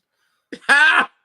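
A single harsh, throaty cough close up, a short catch of breath followed by one rasping burst.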